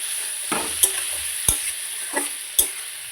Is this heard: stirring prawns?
yes